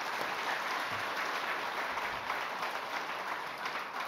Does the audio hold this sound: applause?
yes